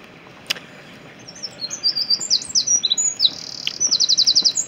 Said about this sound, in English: A little bird singing away.